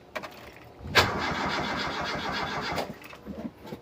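Toyota Kijang car engine cranking and struggling to start, with an uneven starter churn that briefly catches with a louder burst, grinds on for about two seconds, then fades without settling into an idle.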